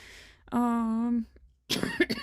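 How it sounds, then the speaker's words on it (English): A sustained voiced throat sound, then a pause and a burst of harsh, noisy coughing close to the microphone. "Still have that cough. It will not go away."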